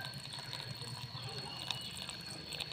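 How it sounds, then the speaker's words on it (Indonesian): A thin, faint stream of water trickles steadily into an NFT hydroponic pipe growing celery, a soft continuous running sound. "Seperti air mengalir"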